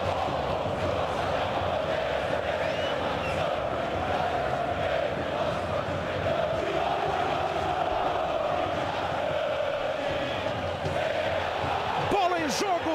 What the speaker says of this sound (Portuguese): Entre no clima da torcida no Pacaembu.